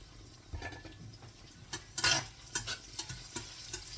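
Aromatics such as onion sautéing in a pan as the base for a coconut milk fish stew: soft sizzling with intermittent scraping stirs and light clinks, fairly quiet and close.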